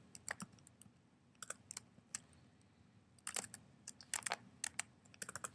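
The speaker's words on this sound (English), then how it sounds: "we type in our choices" Someone types multiple-choice answers into a test on a computer keyboard, producing scattered bursts of crisp key clicks, close and quiet, with pauses between runs and no speech.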